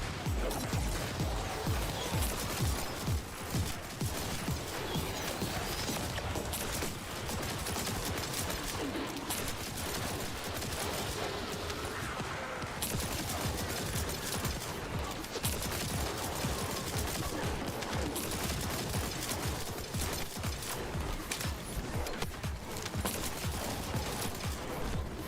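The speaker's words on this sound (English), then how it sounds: "That's lots of grenades." Grenades and heavy weapons go off again and again in the shooter game The First Descendant, a dense and continuous barrage of blasts and gunfire that stays loud throughout.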